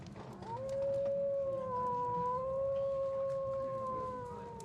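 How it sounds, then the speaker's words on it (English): Wolves howl far off in a cold, wintry setting, two drawn-out overlapping howls rising and holding steady for several seconds over a soft background hiss. "You can hear off in the distance."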